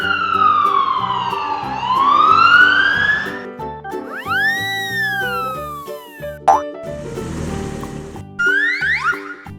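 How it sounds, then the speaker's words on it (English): A black toy police car siren in a kids' cartoon sweeps down and up for a few seconds over light music, then gives way to cartoon boings and swishing effects. "Black police car."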